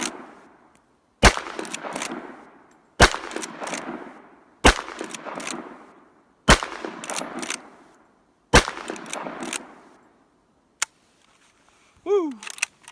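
Winchester 94 30-30 lever-action rifle fired outdoors, five sharp loud shots spaced about two seconds apart, each followed by a rolling echo, then a faint click and a brief voice at the end.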